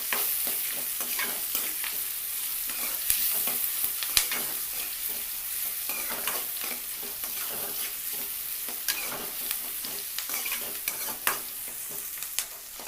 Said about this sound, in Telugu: ఉల్లిపాయ ముక్కలు కొంచెం వేగనివ్వాలి.